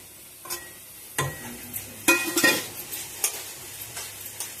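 Chopped tomatoes hit a pan of egg curry masala with turmeric, frying with a soft sizzle while a spoon scrapes and clinks several times at an uneven pace, close and moderately loud.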